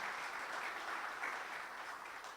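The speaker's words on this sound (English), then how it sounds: "let's give His Excellency another round of applause for this great accomplishment" A round of applause from a fireside chat audience honouring the IsDB President, a broad, even patter of many hands clapping, fairly quiet and distant, sustained for a couple of seconds.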